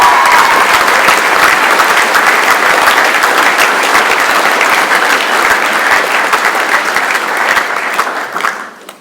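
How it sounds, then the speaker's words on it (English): Sustained audience applause at a school speech night and prize-giving, dense and steady for about eight seconds before tapering off at the end, with no talk over it. "we will applaud her anyway."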